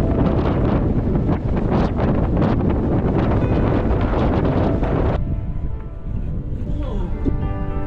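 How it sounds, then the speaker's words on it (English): A strong 30-knot easterly gust roars and buffets the microphone aboard a sailboat in choppy water off Bora Bora, French Polynesia, a loud, constant rush that drops off sharply near the end. "We sailed in 30 knot wind with easterly rushing down from Mount Otemanu"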